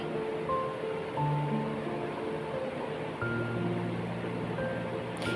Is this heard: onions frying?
yes